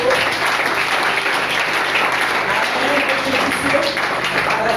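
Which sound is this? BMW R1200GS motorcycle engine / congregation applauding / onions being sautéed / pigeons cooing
congregation applauding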